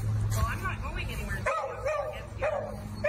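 Dog barking in short yips and woofs near a street, several quick barks mixed with talk over the top.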